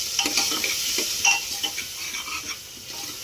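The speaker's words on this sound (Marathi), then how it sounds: "हे सगळं टाकायचं आपल्याला एकत्र आणि हलवून घ्यायचं" Tomato, red chilli powder, salt, sabzi masala and turmeric are stirred together in a sizzling pan, with repeated scraping strokes and light clinks over a soft, continuous frying hiss.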